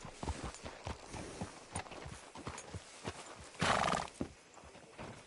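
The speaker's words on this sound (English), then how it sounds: "Hitch your horse up here." Horse in the Red Dead Redemption II video game, hooves clip-clopping at a steady walk with a loud neigh cutting in near the end, close and alone without talk.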